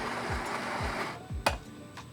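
A Jura J8 coffee machine grinds Colombian beans for an Americano, a steady close mechanical whir with a few soft rhythmic thumps and a brief sharp click near the end.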